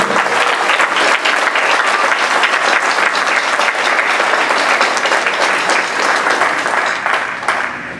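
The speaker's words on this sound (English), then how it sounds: "Just want to give a big round of applause to them." Sustained audience applause for intermediate battery drumline students at a percussion camp concert, dense steady clapping at full volume for the whole stretch, easing slightly near the end.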